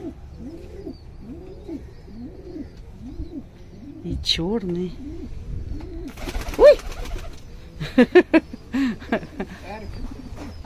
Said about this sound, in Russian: Ага, это все голуби здесь.